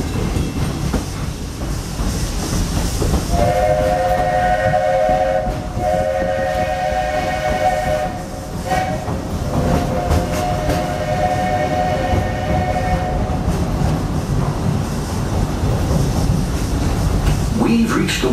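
The Walt Disney World Railroad train rolls steadily along the tracks with a continuous rumble, while a multi-tone whistle sounds in several long blasts partway through.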